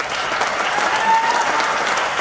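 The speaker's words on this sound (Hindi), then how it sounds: "ताली बजाने के लिए" An audience claps in a steady, dense burst of applause that holds for about two seconds, loud and close, with no talking over it.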